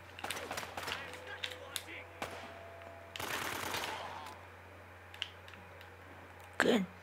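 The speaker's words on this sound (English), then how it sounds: "Someone is shooting." Gunfire in the video game Uncharted: Drake's Fortune: sharp, scattered shots and clicks at varying distances, one louder burst near the end, over a steady low hum with brief talk.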